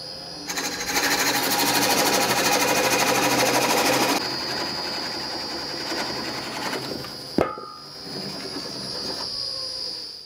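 A lathe cores a wooden bowl, a loud continuous mechanical whine and cutting roar that drops in level partway through, then a sharp knock and a quieter steady running hum, close up with no talking.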